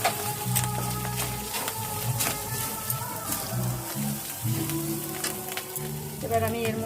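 Ground spices hit hot oil with ginger and garlic for a chicken dish, giving a steady close sizzle throughout, broken by occasional stirring scrapes.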